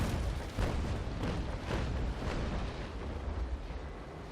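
Ship cannons from the naval combat game Naval Action fire in a rolling series of deep, heavy booms, several overlapping blasts over a few seconds that fade into a low rumble.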